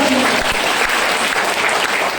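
Loud, dense audience applause fills the whole stretch at a motivational speech event, steady and close with no gaps, as a large crowd claps together.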